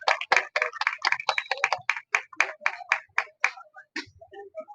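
Audience applause at a prize-giving ceremony, a quick series of sharp claps that rises to a dense burst and then thins out toward the end, close and clear with no talk over it.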